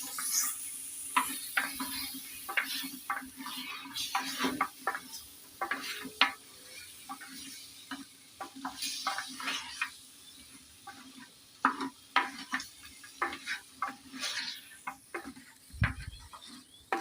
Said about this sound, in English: Let me now stir and combine everything.